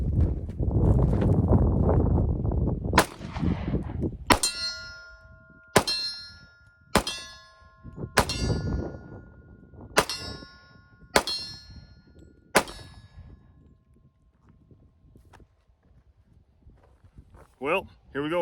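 A cheap 1911 pistol fires semi-wadcutter rounds at an outdoor range: about eight sharp, loud shots at a steady pace, each with a ringing metallic tail, after a stretch of low rumbling noise at the start.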